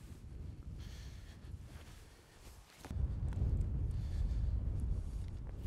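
Strong gusting wind buffets the microphone on the 15th hole of a golf course, a 360-metre par 4, with low rumbling that grows louder and steadier in the second half.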